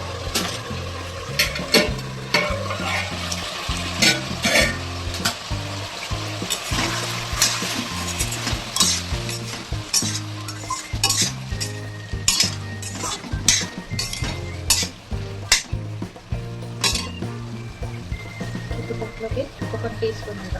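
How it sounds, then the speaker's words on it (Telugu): Chopped tomatoes fry in oil in a pan over a high flame for a mint and coriander chutney. A loud, continuous sizzle runs under repeated stirring scrapes and sharp metallic clinks of a utensil against the pan. "టమాటోస్ మొత్తానికి ఒకసారి ఆయిల్ పట్టించి మూత పెట్టేసి ఒక 2 నిమిషాలు వదిలేద్దాం పెద్ద మంట మీద"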